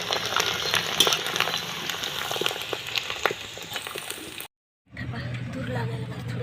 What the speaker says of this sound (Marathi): राहिलेला पण कांदा आपण तळून घेऊया